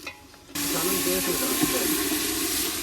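After a brief quiet moment, a loud, steady sizzle of spice tempering hitting hot oil over a strong fire at a free-food charity kitchen bursts in and continues, with faint voices underneath.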